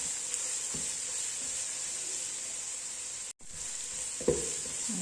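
Chopped onion, green chili, ginger and garlic sauté in a pan with a steady, quiet sizzle. A few soft stirring scrapes sound near the start and again near the end.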